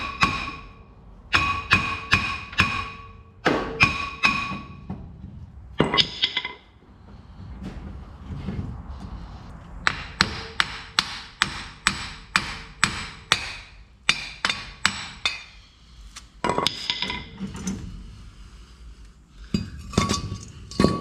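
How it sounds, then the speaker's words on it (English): Wheel studs on a 1994 Dodge 2500 hub being beaten out with a hammer: loud, close metallic strikes in rapid bursts, separated by pauses and quieter clanking and handling noise. "since these studs are basically no good, I'm just gonna beat them out"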